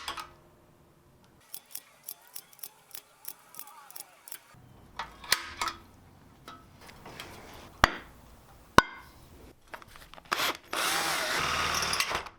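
Drill boring rows of holes into the steel floor of a welded steel tube gasifier stove, a series of short sharp bursts and clicks followed by a longer sustained grinding whir near the end, close by.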